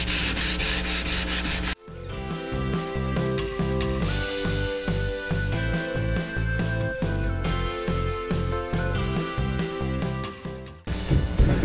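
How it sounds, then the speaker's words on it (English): 100 grit sandpaper rubs rust off a metal arcade control panel in steady rhythmic back-and-forth strokes, close and scratchy, with a brief pause near the start and end. "I'm just taking that 100 grit sandpaper, trying not to make any unnecessary scratches here"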